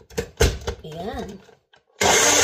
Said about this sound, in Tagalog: Tapos, i-blender na natin siya.